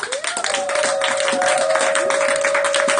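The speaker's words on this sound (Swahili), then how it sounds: "Hebu tupigie Bwana makofi makubwa kama unapata taswira" A church congregation at a Bible study and prayer meeting clapping and applauding for the Lord, with dense, continuous rapid claps throughout, a sustained tone running underneath, and no words spoken.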